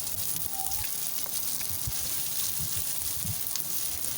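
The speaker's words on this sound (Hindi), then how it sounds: "प्याज को हमें गोल्डन ब्राउन नहीं करना, बल्कि बस हल्का सा फ्लेवर आ जाए इसका और थोड़ी सी भुन जाए, सौते करेंगे बस थोड़ा सा" Sliced onion sautés in hot oil for aloo paratha filling, a dense, even sizzle that stays loud and close throughout with faint clinks underneath.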